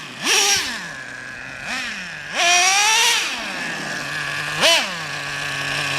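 A Traxxas Revo 3.3 nitro RC truck engine running close by, a steady high buzzing idle broken by four sharp revving blips that rise and fall in pitch.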